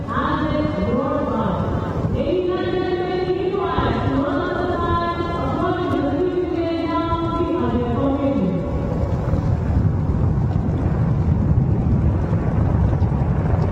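Military helicopter squadron flying past over a Republic Day parade on Kartavya Path, a loud continuous rotor drone with rising and falling engine whine, under a commentator's voice.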